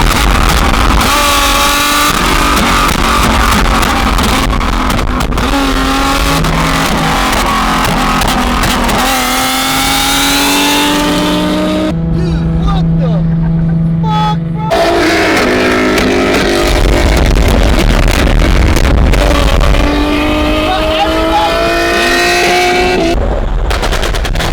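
Street drift cars including Nissan Zs, a BMW M5 and a Shelby rev hard and pop exhaust flames at a meetup, a loud, continuous roar of engines with sharp backfire cracks and rapid bursts throughout.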